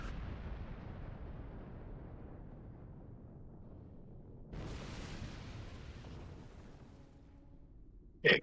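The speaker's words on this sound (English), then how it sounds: "Explosion." A spaceship explodes in the Star Trek Online video game: a loud rumbling blast with a long decaying roar, then a second burst of debris noise midway, and a few faint electronic tones and a sharp click near the end.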